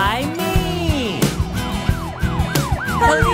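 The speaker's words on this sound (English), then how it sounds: "I see a police car driving by me." A police car siren wails up close, its rising and falling tone repeating rapidly over a steady rhythmic backing beat.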